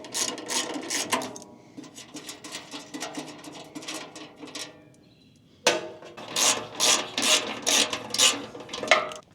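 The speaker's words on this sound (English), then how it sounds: "I gotta undo the band cover to get to it, so I'll do that now." Tools working on the band cover of a MechMaxx B200 wood chipper during maintenance: bursts of close metallic rattling, clicking and scraping, a quiet pause near the middle, then louder clattering handling.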